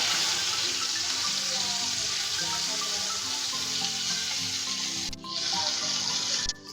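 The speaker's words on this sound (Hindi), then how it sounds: "कबाब अच्छे से फ्राई हो चुके हैं" Beef seekh kebabs fry loudly in a pan with a steady, hissing sizzle that carries on almost without a break. Two brief dips come near the end.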